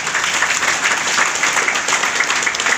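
Seminar audience giving sustained applause, a dense, loud wash of many hands clapping close by throughout, with no voices on top.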